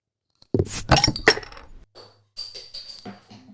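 Beer glasses clink together in a toast, a few bright ringing knocks close by, followed by quieter handling and faint clatter of the glasses, with no talking.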